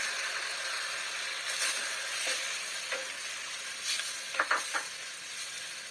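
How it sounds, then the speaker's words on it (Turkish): Lamb meat going into a pot of onions frying in oil, giving a steady close sizzle with brief louder bursts of crackling and stirring as it lands. "Soğanları çok fazla öldürmeden bir ya da iki dakika Çevirdikten sonra etleri ilave ediyorum."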